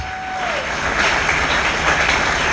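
A church congregation at a Sunday service breaks into steady, dense applause that swells slightly and holds at a loud level throughout.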